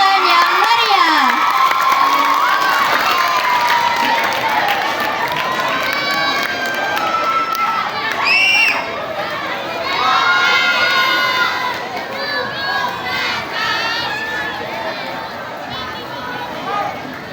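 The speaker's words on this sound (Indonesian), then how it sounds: "Beri tepuk tangan yang meriah." Students at a school student-council (OSIS) candidate debate cheer, shout and clap as a candidate pair is called up, forming a loud, energetic crowd roar with high-pitched yells and chatter throughout.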